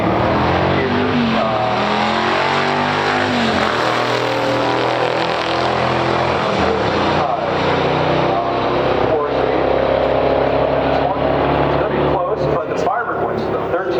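A 1969 Corvette 427 with an L36 engine and 390 horsepower drag races a 1973 Firebird Formula 455 in a pure stock drag race, their loud engines roaring steadily and close throughout, with a voice talking over the din.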